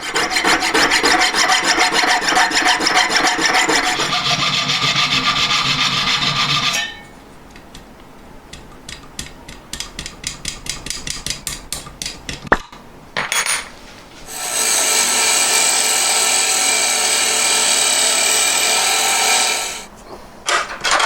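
A small jeweller's tool grinds and rasps against metal in loud bursts, pausing for quieter scraping strokes before cutting in again.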